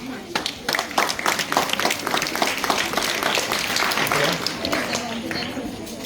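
A crowd applauding steadily after a talk on living together, dense clapping from many hands lasting several seconds at a fairly loud level, with voices mixed in.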